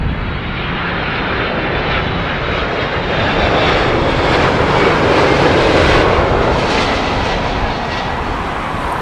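A Delta Boeing 767 jet passes low overhead on its landing approach at London Heathrow, a loud, sustained engine roar and rushing whine that swells toward the middle and stays strong throughout.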